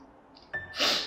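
A single sneeze, close and fairly loud, preceded by a sharp intake of breath and ending in a bright burst of breathy noise.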